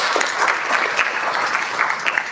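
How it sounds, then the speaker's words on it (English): An audience applauding panelists at a health care leaders event, dense continuous clapping from a crowd, fairly loud and even for the whole stretch. "can we give our panelists a round of applause?"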